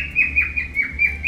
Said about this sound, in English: Of course, Gizmo decides to save his chirping till the end of the video